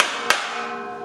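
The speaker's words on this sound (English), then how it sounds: "we're going to give ourselves a little punch here" A single sharp metallic strike rings out as a punch is tapped into the metal frame of a teardrop camper trailer during lighting kit installation, a close, brief clank with a fading ring.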